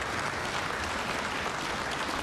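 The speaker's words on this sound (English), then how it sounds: "sixth applause line of the night" Steady, dense applause from a large audience at the Montana State of the State address, continuous and even throughout with no voices standing out.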